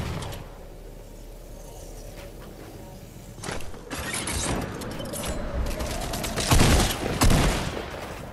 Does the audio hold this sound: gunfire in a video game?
yes